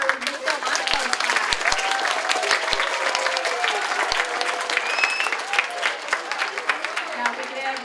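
An audience at a school DARE graduation ceremony claps and cheers for a class in a loud, sustained wash of applause, with scattered sharper hand claps and faint crowd voices underneath.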